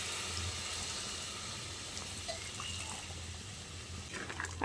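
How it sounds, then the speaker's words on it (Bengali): Warm water poured into a cooking pan of sautéed drumstick (sajna) curry makes a steady, soft hiss and trickle throughout, with a louder splash right at the end. "এবার আমি এর মধ্যে দিয়ে দিচ্ছি উষ্ণ গরম জল।"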